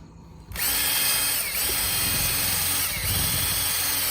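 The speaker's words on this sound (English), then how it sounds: "I'm going to be stirring it, not by hand, but with a drill with a paint stirrer attachment." A power drill with a paint stirrer attachment starts abruptly and whirs at a steady high speed, its pitch dipping briefly now and then as it churns through thick RV roof coating.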